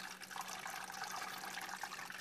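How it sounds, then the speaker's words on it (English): A DIY PVC hydroponic system with 3-inch pipe gurgles and sucks in water and air at once, a steady rushing, bubbling noise that stays constant and fairly faint throughout. "it's creating a vacuum and sucking water and air in at once and making this horrible noise"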